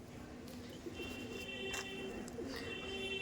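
Short-sized Madrasi tournament-quality pigeons cooing softly in a loft, low murmuring coos repeating over a steady background hum, with faint chirps, no talking.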